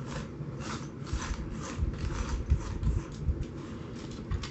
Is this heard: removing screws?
yes